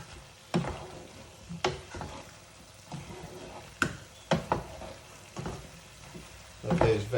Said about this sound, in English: now to that I'm going to add the mange tout and the aubergine. And give that a stir.